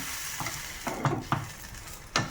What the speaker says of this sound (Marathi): दोन्ही बाजूनी छान असा खरपूस होईपर्यंत भाजून घ्यायचा